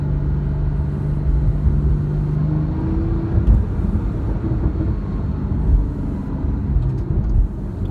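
A 2018 Porsche 911 Carrera T with a twin-turbo engine drives along, a loud, steady low rumble of engine and road noise heard from inside the cabin, with a brief tone early on and no talking.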